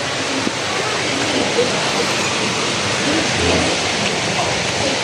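Steady, dense rain pouring down, a continuous loud hiss with no pauses, like a heavy downpour close by.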